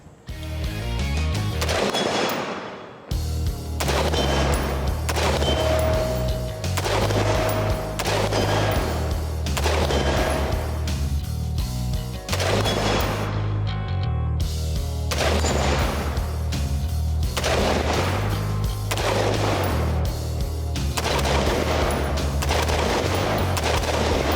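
A homemade build rifle fitted with a large two-chamber muzzle brake fired outdoors in a long series of loud, close shots, many in quick pairs and clusters, echoing between bursts with no talk.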